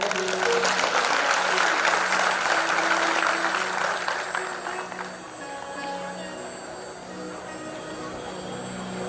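Audience applause at a live Bhagwat Katha religious discourse, a sustained crowd of clapping hands that swells then gradually thins and fades over several seconds, with faint background tones beneath.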